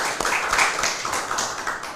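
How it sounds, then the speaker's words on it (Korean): Audience at a policy forum in the National Assembly members' hall claps to welcome a speaker, a steady patter of hands at moderate volume with no talk over it. "박수로."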